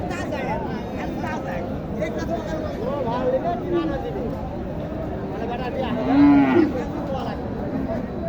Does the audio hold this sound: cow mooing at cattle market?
yes